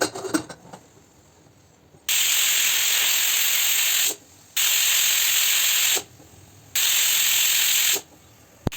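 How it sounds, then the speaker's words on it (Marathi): Steam hisses loudly out of a pressure cooker after its whistles while dal bati cooks, coming in three long bursts of about two seconds each with short silent gaps between them, and no talking. "आपण आता कुकरची वाफ काढून घेऊया"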